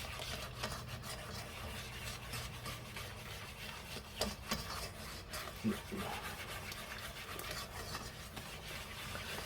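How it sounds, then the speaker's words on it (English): Beer cheese dip for pretzels being stirred in a pot, a steady soft scraping and rubbing that runs continuously with a few brief louder knocks against the pot. "so now we're just going to stir until this is all combined"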